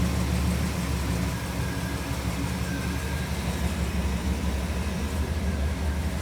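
A 1959 Pontiac engine idles a little too fast, a steady, loud, close rumble that holds without a break for the whole stretch.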